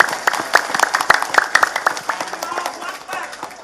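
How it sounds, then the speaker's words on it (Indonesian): Clapping breaks out at a village Maulid gathering in Kampung Bubutulan, a burst of sharp, close handclaps at first that thins out and fades toward the end, with a voice talking over it. "Tepuk tangan sepindah malih."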